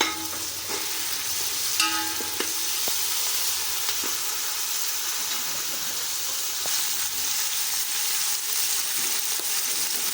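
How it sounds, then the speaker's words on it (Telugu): Tomato added to onions frying for chicken pulao, a dense continuous sizzle with light stirring and a few faint clinks, steady and close throughout with no voices. "దీంట్లో 1 కప్పు టమాటా, అంటే ఒక పెద్ద టమాటా,"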